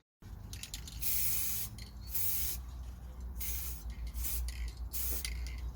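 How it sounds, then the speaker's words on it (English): Short bursts of spray paint hiss out of a can onto a model airplane fuselage outdoors, close and loud, several pulses separated by brief pauses. "I'm going to quickly try and spray the fuselage while the sun is still shining."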